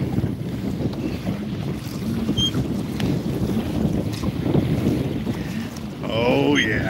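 A sailboat moves through the water in wind, with rushing water, gusty wind buffeting the microphone and low sloshing throughout, plus a brief creak or whistle near the end.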